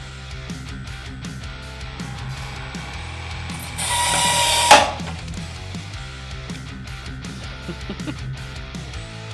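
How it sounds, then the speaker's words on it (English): A torque test machine twists an annealed forged bolt at 30 RPM, giving steady ratcheting mechanical clicks throughout, with a louder, rising grinding burst that ends in a sharp snap near the middle as the bolt breaks. "we are going to run this thing down at 30 RPM until it breaks"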